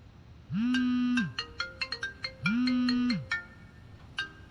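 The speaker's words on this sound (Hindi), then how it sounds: "तुम्हारे डैडी का फोन आया है।" A telephone ringtone sounds twice, each time as a rising then falling electronic tone about a second long, with chiming tonal notes in between. It is close and clear, with no talk.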